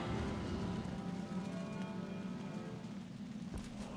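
Rain spell cast in the fantasy RPG Divinity: Original Sin, a steady wash of rainfall hiss over a low rumbling drone, continuous and fairly close for the whole stretch with a brief thump near the end.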